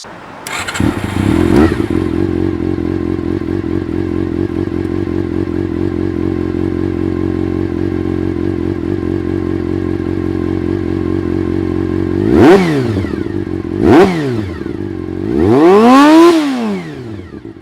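A Honda CBR400RR sport motorcycle engine starts up and settles into a loud, steady idle, then revs sharply three times near the end.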